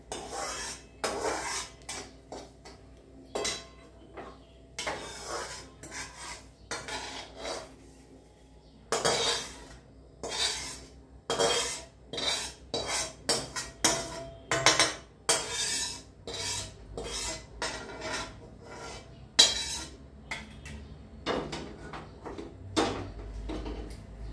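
Roasted semolina being scraped out of a pan onto a plate, producing repeated close metallic scrapes and rasps of spoon on pan in uneven bursts, with no talk.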